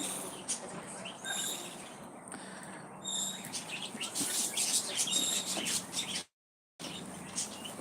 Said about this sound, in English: the Barra band parakeets to look out for,